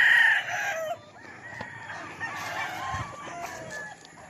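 Grey gamecock stags crow loudly and close by at the start. Softer clucks and fowl noises follow from the pens.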